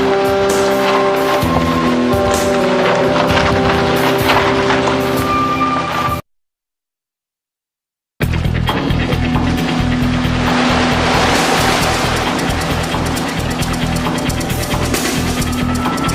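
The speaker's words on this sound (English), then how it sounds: "I think they're getting the car washed again." A car going through a car wash, a loud steady rush of spraying water and machinery that runs on and on, broken by a brief total silence midway before resuming just as strongly.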